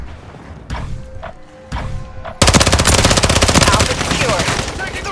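Machine gun fire in the video game Call of Duty Modern Warfare III: a few scattered shots and thuds, then a loud, continuous rapid burst close by, with faint voices in the background.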